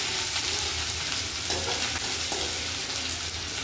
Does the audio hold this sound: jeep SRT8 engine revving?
no